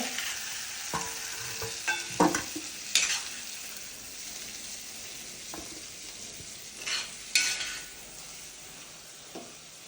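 Chillies frying in oil in a pan for a fish curry, a soft continuous sizzle with occasional sharp scrapes and clinks of a spoon stirring, close and quiet, with no talk.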